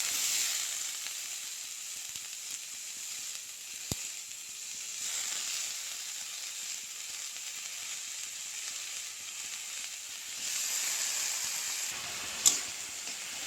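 Chopped banana flower drops into a pan of hot oil with fried red chilies, giving a steady, even hiss of frying, with a couple of brief sharp clicks along the way.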